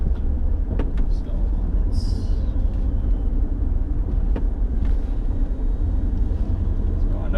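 A 2004 Cadillac CTS-V's engine and road noise hum steadily from inside the cabin while driving, with faint clicks and a brief higher whine partway through.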